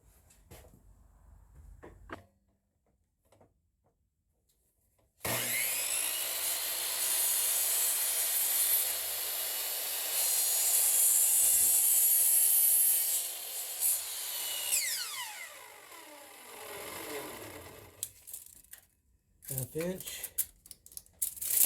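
Chop box mitre saw cutting wooden trim in a sunroom, a sharp whine spinning up and biting through the wood for about ten seconds, then winding down, with quiet moments before and after.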